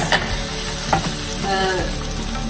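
Chickpea masala sauce stirred in a pot, a close, continuous sizzle and bubbling with a few scraping strokes of the spoon over about two seconds.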